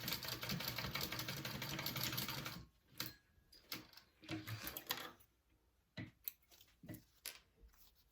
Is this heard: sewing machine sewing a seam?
yes